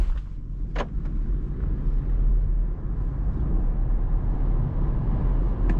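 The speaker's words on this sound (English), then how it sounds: "so let's go and try acceleration to 100 kilometers per hour" A 2024 BMW X2 M Sport accelerates hard toward 100 km/h, with a deep, steady engine and road rumble heard from inside the cabin and a couple of faint clicks near the start.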